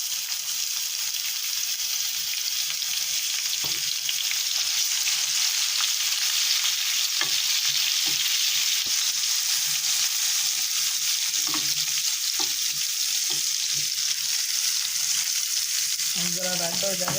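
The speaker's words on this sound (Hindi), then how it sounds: "हुण असी लावांगे इहदा तड़का प्याज दा" Onion and ginger fry in about two spoonfuls of hot oil for a tarka, a dense, continuous sizzle with scattered stirring clicks and scrapes, and faint voice fragments near the end.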